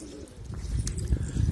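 Low, soft cooing of pigeons close by, murmuring continuously over a dull background rumble.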